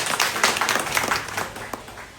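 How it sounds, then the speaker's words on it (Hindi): A crowd at a meeting for masons in Jharkhand gives a short round of clapping, loud at first with distinct hand claps, then thinning out and fading within a couple of seconds. "इनके लिए एक बार जोरदार ताली मारिए"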